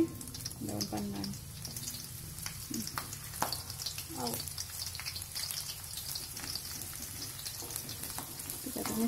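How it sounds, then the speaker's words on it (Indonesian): Onions, lemongrass and pandan leaves sautéing in a pan, a faint steady sizzle with scattered crackles and occasional stirring scrapes, a voice briefly heard in the background. "Kita tumis sampai harum."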